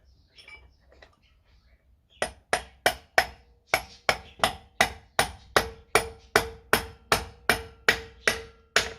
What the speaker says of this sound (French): un petit marteau jusqu'à temps que ça bloque